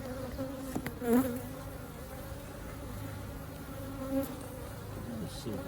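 A dense, steady drone of many honey bees buzzing around an open hive during an inspection, with individual insects swelling louder as they fly close past.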